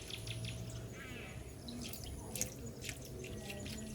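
Water from a coconut dripping and trickling into a container in a home kitchen, a soft run of drips under a steady low hiss of background noise, with no voices.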